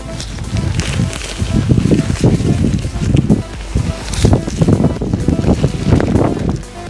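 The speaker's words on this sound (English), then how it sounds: "Pitching a tent, trying to hide from the wind." Gusty wind buffets a tent being pitched on a cold winter moor in Dartmoor, coming in uneven loud surges with rustling fabric and handling noises close by.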